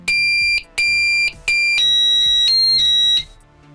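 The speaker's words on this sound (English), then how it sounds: "alarm is triggered and we put code" A Pyronix Enforcer V11 intruder alarm sounds in loud, close electronic beeping bursts, several short pulses then a longer continuous tone, with no one talking.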